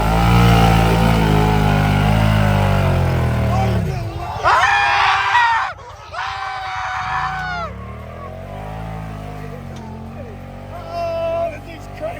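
Motorcycle engine revving hard in a mud hole, a loud rising and falling roar with strained bursts, close by, mixed with shouting voices.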